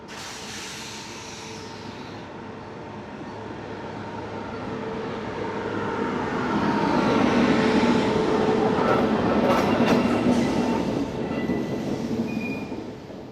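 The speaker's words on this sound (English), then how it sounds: "As the train arrives from Ashokapuram, hauled by same WP7" The diesel-hauled Kaveri Express passenger train rolls in from Ashokapuram, India, steadily, a broad rumbling roar swelling and then easing, with faint squeals and a brief hiss near the end.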